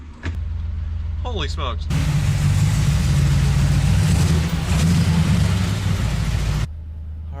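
A classic car in Nassau blue fires up and settles into a loud, steady close rumble, then the engine note drops near the end, with a brief exclaiming voice just before it catches.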